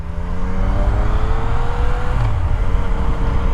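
A 2018 Yamaha MT-09 motorcycle engine on its stock exhaust runs loud and close, its pitch rising and falling through a short rev.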